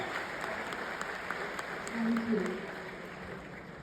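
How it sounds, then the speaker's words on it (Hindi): Audience applause rises at a film trailer launch held at a college in Pune, a soft steady clapping with a brief swell midway, partly under a faint voice. "उनके लिए एक जोरदार तालियां"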